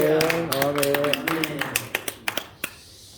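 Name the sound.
congregation applauding in church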